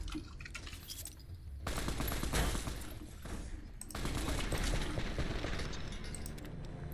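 Rapid automatic gunfire rattles in Fallout New Vegas, close and loud, coming in two long sustained bursts with a short lull between them and no voices.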